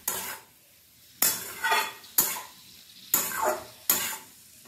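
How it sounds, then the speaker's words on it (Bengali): Spoon scraping and stirring fried potatoes and aubergine in a metal pan, five distinct clattering strokes at regular intervals with a faint sizzle between them, close and clear with no talking. "নুনটা দেওয়ার পরে খুব ভালো করে এগুলোকে নাড়াচাড়া করে মিশিয়ে দেব।"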